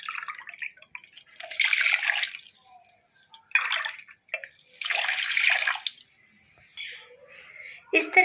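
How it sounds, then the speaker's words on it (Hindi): Water poured into a tea-making pot to start a kadha, an Ayurvedic spiced drink, coming in two splashy bursts with pauses and a short final trickle. "अब हम इसमें डालेंगे पानी"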